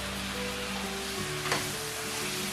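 Spicy goat meat for asun fries in a hot pan with a loud, continuous hiss and crackle, a brief sharper burst of sizzle partway through, and no voices over it.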